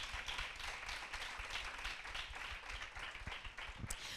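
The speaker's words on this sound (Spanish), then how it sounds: "Dale un aplauso ahí al Señor." A church congregation claps in praise during a Spanish-language service, a dense, even patter of many hands filling the room at moderate distance, sustained for the whole stretch without speech over it.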